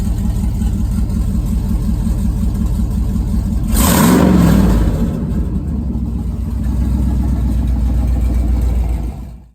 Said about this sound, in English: Give me a romp on the gas real quick.